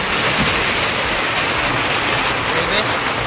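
Water pours forcefully in a steady, loud broadband rush that fills the whole stretch without pause, from a waterfall at an outdoor spot in Chhattisgarh; no clear voices stand out above the roar.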